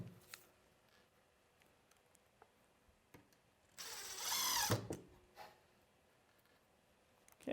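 A power drill bores a pilot hole into plywood in one short, loud whirring burst of about a second, set against an otherwise quiet workshop with a few faint clicks and knocks.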